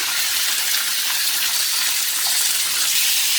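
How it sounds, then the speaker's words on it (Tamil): Chillies are stir-fried for a chilli chutney, giving a continuous bright sizzling hiss throughout, loud and close with no talking. "நல்லா ஒரு ஸ்டிர் ஃப்ரை பண்ணிக்கலாங்க."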